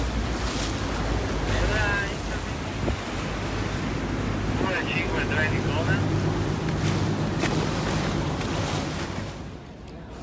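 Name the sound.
water taxi boat ride on waves in Venice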